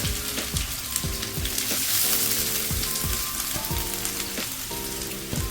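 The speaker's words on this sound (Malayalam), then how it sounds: "ഈ സവാള നമുക്ക് നല്ല ഗോൾഡൻ ബ്രൗൺ ആവണ വരെ ഒന്ന് ഫ്രൈ ചെയ്തെടുക്കാം" Steady, dense sizzling of thinly sliced onions frying in hot coconut oil, with continuous crackle and occasional stirring scrapes, close and fairly loud with no talking.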